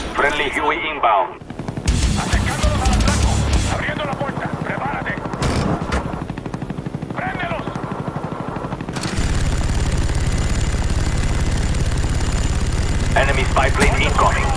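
A friendly Huey helicopter flies in during a Call of Duty multiplayer match, its steady rotor drone loud and continuous beneath game voice announcements and bursts of gunfire and explosions.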